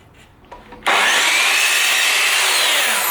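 A miter saw set to 45 degrees cuts an external miter through wood trim for a DIY feature wall. A few faint knocks come first, then the blade bites in with a loud, sustained, close-up whine that lasts to the end.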